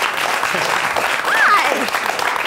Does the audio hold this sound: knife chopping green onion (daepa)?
no